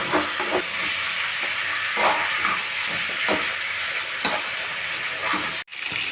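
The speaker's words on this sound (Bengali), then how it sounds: "দেখুন বন্ধুরা মাংসগুলো সব ভাজা হচ্ছে" Chicken pieces frying in a pan give off a continuous loud sizzle and hiss, with periodic scraping bursts from stirring and a brief break near the end.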